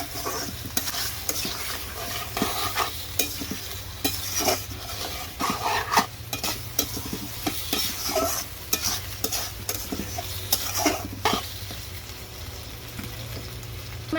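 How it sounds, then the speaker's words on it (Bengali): Potatoes are sautéed in a pan with spice powder already fried in oil. A soft, steady sizzle runs underneath while a spoon scrapes and stirs in repeated sharp clinks against the metal. "গুঁড়া দিয়ে কষায় নিতে আসছি।"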